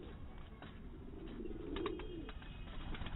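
Breeder pigeons coo softly in a low, continuous murmur, with a slightly louder burst near the middle, heard alone and close by.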